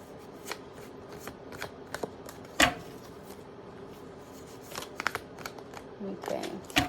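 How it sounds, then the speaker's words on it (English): Tarot cards riffled and flicked in repeated bursts, papery slaps and soft shuffles up close, with one louder snap midway and quieter card handling continuing around it. "Just give me a moment so I can pull more cards for you guys."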